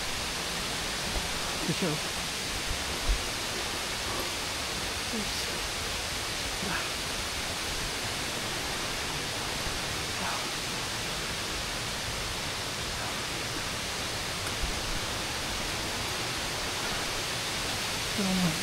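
Steady broadband rush of the Cagbuanga waterfall in El Nido, Palawan, a constant roar heard up close, with a brief spoken voice near the start.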